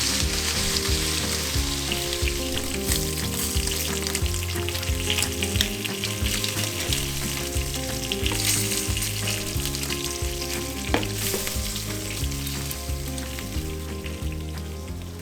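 Lamb chops sizzle loudly on a hot grill in a dense, unbroken hiss that runs close and steady throughout, with faint crackles and no talking.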